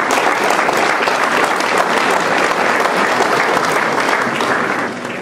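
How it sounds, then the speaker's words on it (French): Steady, dense applause from a crowd at a New Year's address in Messanges, loud and sustained, tapering slightly at the end. "donc vous pouvez applaudir ceux qui en médissent"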